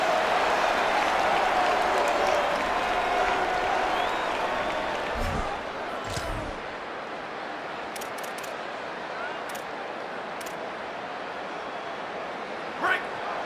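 Dense stadium crowd noise fills a College Football 27 game (Texas A&M at LSU) as fans roar behind the defense in the red zone, a steady loud wash with commentary voices over it.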